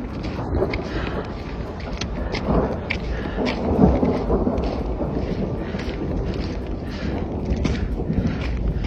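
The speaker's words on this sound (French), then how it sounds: "entendre le tonnerre gronder et résonner entre toutes les montagnes" Deep thunder rumbles and echoes between Alpine mountains with steady rain pattering, a broad rolling roar that swells slightly around the middle.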